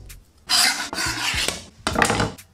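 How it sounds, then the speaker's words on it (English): A knife chopping garlic finely on a cutting board, heard close and loud in quick bursts of rapid tapping and scraping strokes separated by short pauses. "Just go through with your knife and finely chop this."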